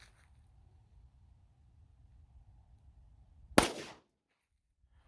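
One gunshot from an S&W SD9VE 9mm pistol firing Winchester white box ammunition, a single sharp crack after a quiet stretch, with a short decay tail into silence.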